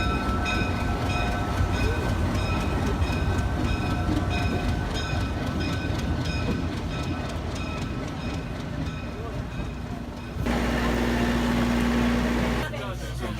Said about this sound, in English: So we're still on the train, making our way to Machu Picchu.